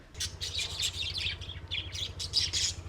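Small birds on Himandhoo island in the Maldives chirp and tweet in quick, bright bursts close by, over a steady low hum in the background.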